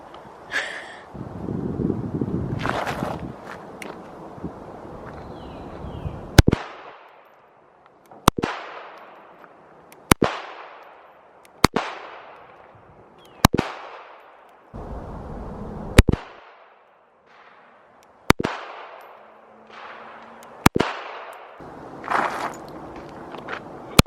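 Gunshots from a Smith and Wesson .380 EZ pistol fired at a range, about eight sharp loud reports spaced a second or two apart, each with a decaying tail, with wind and shuffling between shots.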